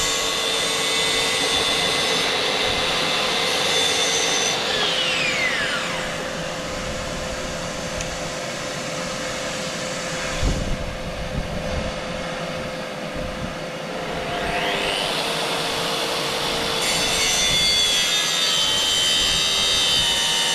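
A power saw cuts across a bathroom vanity cabinet, a loud roaring whine that rises at the start, dips through a quieter middle stretch, then surges again toward the end.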